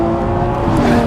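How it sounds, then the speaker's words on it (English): A Lamborghini Aventador SVJ's V12 roars loud and close through a gear change, a strained, tonal engine howl holding a steady pitch before it shifts. No voices are heard. "And it makes a proper supercar noise. Listen to that V12."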